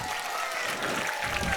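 An audience at a live stage comedy performance breaks into steady applause, a dense wash of clapping with faint voices mixed in.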